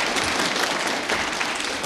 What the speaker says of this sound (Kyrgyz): Анда ушул кызыбызга жакшы кол чаап коелу